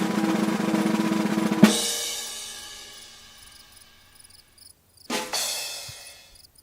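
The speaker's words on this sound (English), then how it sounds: "I think my crickets are still good" Crickets chirp in a sound-effect recording, with a layered insect trill that fades out and then briefly returns after a sharp onset, quiet and without speech.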